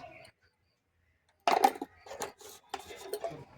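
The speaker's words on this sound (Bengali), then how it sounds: "আমি ভালো করে মিশিয়ে নেব" A spoon scrapes and clatters against a pot while chili powder is mixed into a rohu fish curry with drumsticks, potatoes and tomato, in a few irregular bursts after a quiet pause, near and clear.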